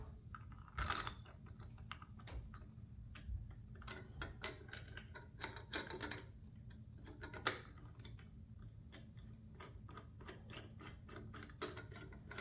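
A small screwdriver drives a screw into a plastic part while a P-51D Mustang model airplane is assembled, giving faint, close clicks and soft ratcheting ticks in an irregular rhythm against quiet background hum.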